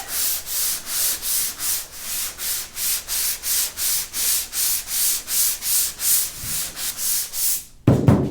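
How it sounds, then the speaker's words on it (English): A sanding block with 180 grit paper works over a car roof in regular back-and-forth strokes, about two per second, loud and close, stopping with a brief clunk at the end. "180 grit on the sanding block."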